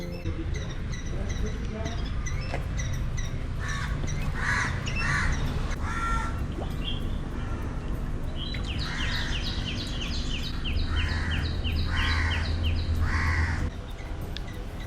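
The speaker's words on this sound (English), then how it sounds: "we could even hear birds chirping in the background." Crows caw repeatedly in loud bursts amid chirping birds at a beach resort in South Goa near a small fish pond, with steady background hiss and a voice speaking over them.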